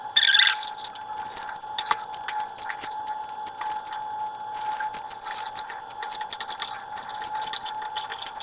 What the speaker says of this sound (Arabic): وهغسل السبانخ معاك